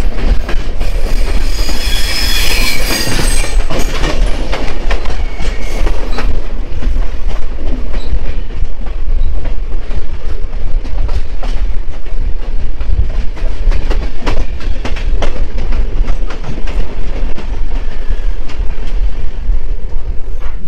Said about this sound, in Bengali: চলে যাচ্ছে পদাতিক এক্সপ্রেস।